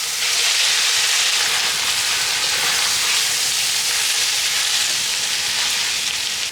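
Canned corned beef and onions sizzle steadily in a frying pan, a loud, continuous broadband crackle and hiss that holds even throughout with no talking.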